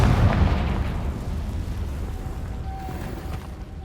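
A Confringo fire spell explodes in the video game Hogwarts Legacy, a loud, dense blast that hits at the start and then decays into a rumbling tail with a faint tonal whine.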